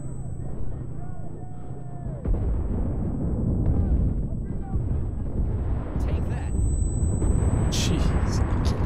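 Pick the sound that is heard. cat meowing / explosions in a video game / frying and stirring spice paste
explosions in a video game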